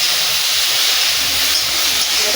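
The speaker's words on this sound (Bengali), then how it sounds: "দিয়ে ভালো করে ভেজে নিচ্ছি সুন্দর করে" Spices frying in hot oil in a pan for a mustard-based tilapia fish curry, giving a steady, loud hiss and sizzle that holds evenly throughout with no breaks.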